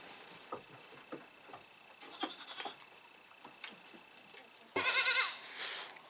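Farm goats bleat in short, scattered calls at moderate distance, with a louder, longer bleat near the end over faint outdoor background.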